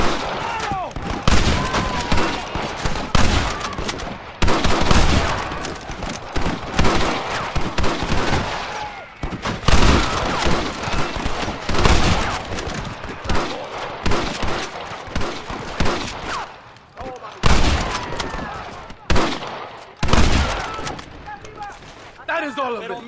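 Shootout gunfire in the Western game Red Dead Redemption, with repeated loud shots and volleys crackling throughout amid shouting voices and battle noise.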